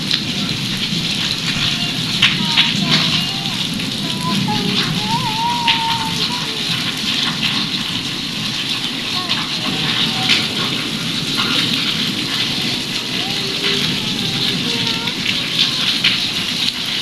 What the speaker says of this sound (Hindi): बारिश एकदम से कितनी ज़्यादा स्टार्ट हो चुकी है, तेज़ हो गई बारिश, साथ में हवा भी चल रही है